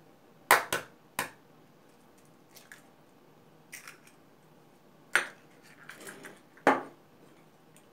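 Mashed bananas and eggs being stirred in a bowl, a handful of separate wet squelching clicks of a utensil against the bowl, spaced irregularly with quiet gaps between.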